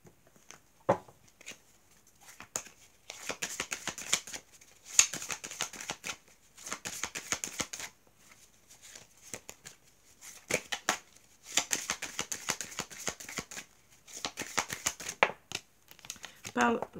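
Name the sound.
shuffling and laying out cards for a reading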